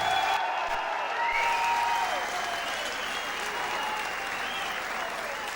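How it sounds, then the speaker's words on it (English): Steady applause from a fight-night crowd for a Scottish boxer who has just lost, dense and sustained with some whistles, as an announcer speaks faintly over it. "Please give a big round of applause for a gallant loser, Scotland's very own Barry Morrison."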